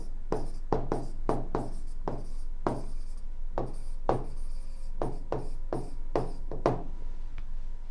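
Chalk or marker writing on a board during a chemistry lecture, a rapid series of crisp tapping and scratching strokes in irregular bursts, close and clear with no talk.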